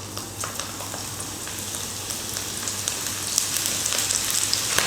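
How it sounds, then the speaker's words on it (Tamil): Battered okra coated in gram flour deep-frying in hot oil, a steady broadband crackling sizzle that holds throughout and grows a little louder toward the end, with no talking. "இப்போது மிக்ஸ் பண்ணி வச்சுருக்கிற வெண்டைக்காவை எண்ணெயில் போட்டு பொரிச்சு எடுத்துக்கலாம்."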